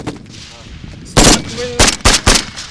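Several sharp gunshots ring out at a military training range near Berdychiv, Ukraine, one single crack followed by a quick cluster of three, loud against a quiet outdoor background.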